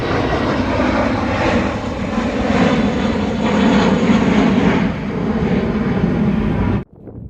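A passenger jet roars past close by near Schiphol Airport in Amsterdam, a loud, steady engine rush with a broad rumble that holds for about seven seconds before cutting off abruptly.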